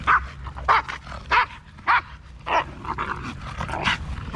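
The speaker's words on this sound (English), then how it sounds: "these are two very dog aggressive dogs" Two dog-aggressive dogs bark in sharp, loud bursts, about eight barks in a fairly steady rhythm, close by, with no talking.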